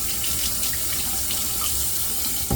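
Water runs steadily from a bathroom tap for a shaving rinse, a continuous close splashing hiss with no talk and a brief louder gush at the very end.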